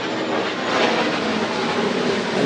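A jet plane passes overhead, a loud, steady broadband roar that swells slightly toward the middle and holds for a few seconds with no talk.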